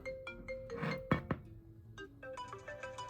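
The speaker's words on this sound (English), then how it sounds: "Okay, let's go through the ringtones. This is the default." The default iOS 7 ringtone on an iPad mini plays as a soft, bright melodic sequence of chiming tones with a couple of sharper accents, fairly quiet and heard alone.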